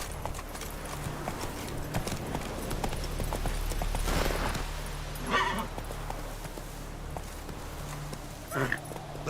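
Horse hooves clip-clopping steadily in The Witcher 3: Wild Hunt, mid-distance with a few louder hoof bursts, running under game ambience.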